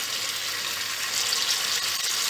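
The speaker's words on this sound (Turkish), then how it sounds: "Şimdi içli köftelerimizi kızartacağız." A steady, close crackling sizzle of stuffed meatballs (içli köfte) frying in plenty of hot oil in a pan, continuous without any voices.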